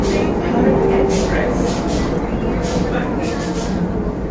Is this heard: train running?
yes